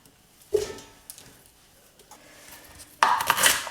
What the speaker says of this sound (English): we're just chopping it into random kind of squares